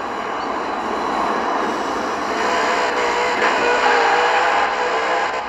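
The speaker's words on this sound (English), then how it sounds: "it's this Carson, I'm pushing the train" Steady rumbling rolling noise of a car shoving a train in the racing game Forza Horizon 4, a continuous broad grinding drone that swells slightly midway and holds at moderate loudness without a break.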